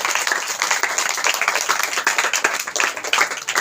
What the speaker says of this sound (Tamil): கைத்தட்டலாமா உங்களுக்கு?